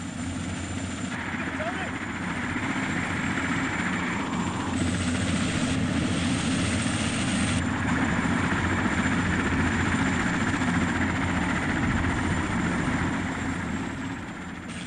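A hovering helicopter winching a baby elephant in a padded rope harness drones steadily with a throbbing rotor beat and engine whine, continuous and fairly loud, while a voice narrates over it.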